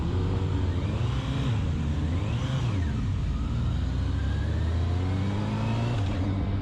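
A Honda Hornet 1000SP motorcycle engine drones steadily and loudly, the pitch climbing through the gears with a brief rise and drop near the middle, heard from up close while riding.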